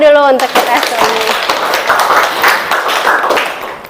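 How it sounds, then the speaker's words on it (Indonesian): A classroom of students clapping together after singing, a short burst of brisk applause that starts right after a teacher's voice and fades over a few seconds. "Tepuk tangan dulu untuk kita semua."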